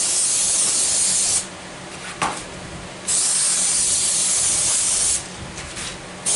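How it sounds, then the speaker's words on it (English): Brake cleaner sprays onto a tractor engine block in three loud, close hissing bursts of aerosol, each lasting one to two seconds, with short quieter gaps between them and no talking. "Brake cleaner to clean some of this stuff off here."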